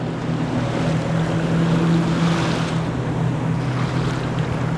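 Ocean surf at Pass-a-Grille beach, a steady broadband wash of breaking waves with wind buffeting the microphone, continuous and close, with a faint low engine-like hum underneath.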